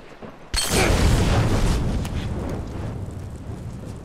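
A single loud explosion in the video game The Last of Us, a sudden close blast with a long rumbling roar that slowly fades over several seconds.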